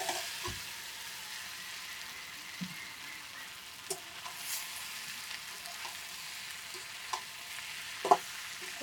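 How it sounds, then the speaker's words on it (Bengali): Fried jackfruit and potato pieces stirred into hot spiced oil in a pan, a soft steady sizzle with occasional spoon scrapes and clinks against the pan, fairly quiet and close, no voices. "এখন আমরা এর ভিতরে এই ভেজে রাখা ইঁচড় আর আলু দিয়ে দেবো।"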